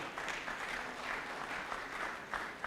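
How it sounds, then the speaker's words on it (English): Audience applause at a cassava conference session, a steady wash of many hands clapping at moderate distance, continuous and even throughout with no voices standing out. "And as they come, clap for them."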